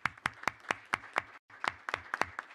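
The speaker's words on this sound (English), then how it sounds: "I think we can give you a big round of applause for this great project." Hands clap in a quick, even rhythm at a project presentation, sharp distinct claps that are fairly quiet and briefly stop midway before resuming, with no voices.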